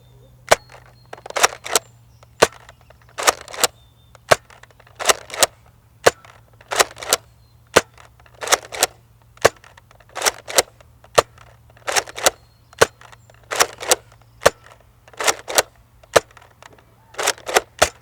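A Nerf Modulus Tri-Strike blaster fires foam darts in a stock range test, a long series of sharp, loud snapping shots, often in quick pairs with air hisses, over a steady low hum.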